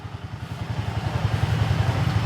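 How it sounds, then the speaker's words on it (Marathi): A Royal Enfield Himalayan motorcycle idles after a cold start, its single-cylinder engine thumping in a steady, fast, even rhythm close by and growing slightly louder. "ही माझी हिमालयन कोल्ड स्टार्ट केली आहे"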